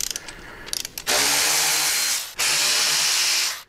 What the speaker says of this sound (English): So we're going to take a 1/4-inch Allen and we're going to remove these two bolts.